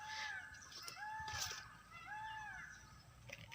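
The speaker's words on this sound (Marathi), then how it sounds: "मोर ओरडते मोर" A peacock calling outdoors in a Konkan cucumber garden: several drawn-out, rising nasal cries at moderate distance, repeating over a noisy background with no talk.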